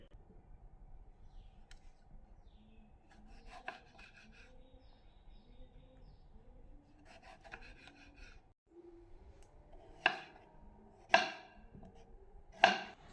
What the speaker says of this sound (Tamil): நாம் வெங்காயம் மிக விரைவில் வெட்ட வேண்டும் என்றால் இந்த ஹோல்டரை உபயோகித்து வெட்டினோம் விரைவில் வெட்டிவிடலாம்